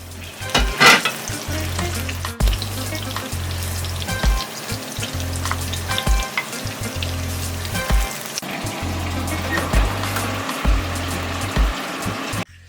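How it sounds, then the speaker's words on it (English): Steady frying sizzle of onion, tomato and peppers in a pan, with occasional stirring clinks and scrapes throughout, close and fairly loud with no talking. "I'm going to start frying off my onion, tomato, and peppers."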